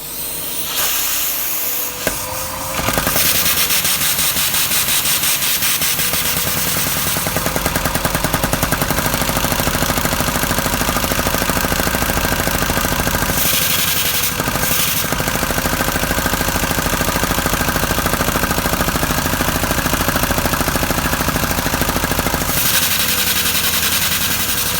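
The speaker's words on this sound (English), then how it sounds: "that was the engine running" A LEGO SOHC vacuum engine runs fast and steadily with a dense, loud hissing rattle, its rapid firing sustained for about twenty seconds after a brief start-up.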